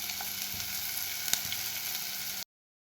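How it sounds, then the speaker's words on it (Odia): Chillies frying in a pan with onion, garlic and ginger, a steady close sizzle with a faint stir, cutting off abruptly. "ଏବେ ସେଥିରେ ଲଙ୍କା ପକାଇକି ଭାଜି ନେବା।"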